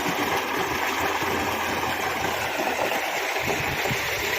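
A farm bore tubewell pump engine runs steadily, a constant mid-pitched mechanical drone with hiss and vibration, close and loud, with no voices.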